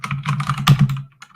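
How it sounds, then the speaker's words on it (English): Rapid clattering keystrokes on a computer keyboard, an irregular burst of close, moderately loud taps with a few heavier key hits, heard alone. "I'm typing on my computer"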